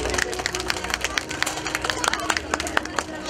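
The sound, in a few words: audience applause for children at an earthquake preparedness talk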